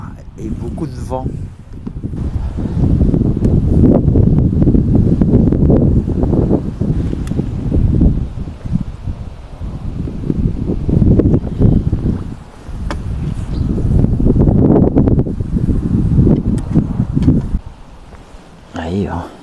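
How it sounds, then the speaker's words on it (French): Strong wind buffets the microphone in rumbling gusts that rise and fade, with brief lulls between them, while fishing at a pond. "Et beaucoup de vent."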